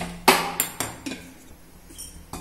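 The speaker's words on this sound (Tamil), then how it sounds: "நான் போய் வானல் வச்சுக்க போகிறேன். வானல் வச்சுக்கலாம்." Metal cookware clanks as a pan is set down, a sharp first knock followed by several lighter clinks and taps.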